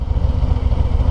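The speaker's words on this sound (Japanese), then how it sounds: "アイドリングもちゃんと温まってれば、そう心地よいっしょ、めっちゃでかくなくてパンパンパンパン言わなくてね" A Harley-Davidson Road Glide ST fitted with a new muffler idles when warmed up. Its lumpy, evenly pulsing engine beat is loud and close, with no other sound over it.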